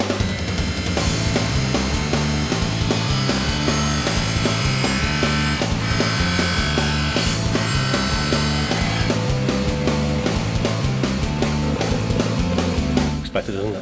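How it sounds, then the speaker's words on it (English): A dental lab model trimmer grinds down a denture model with a continuous loud motorized whir and gritty abrasive scraping that stays steady throughout, ending abruptly. "So I switch on the model trimmer."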